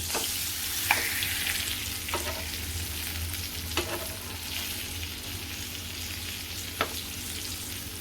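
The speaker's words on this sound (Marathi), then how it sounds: "आता हा सुद्धा बापले पलटून घेऊया आपण" Stuffed masala pomfret fries in a pan with a steady, close sizzle, broken by a few sharp spatula taps and scrapes as the fish is turned.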